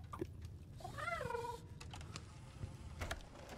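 A black cat in a video game meows once, a drawn-out wavering call heard clearly over a steady low background hum, with a few faint clicks around it.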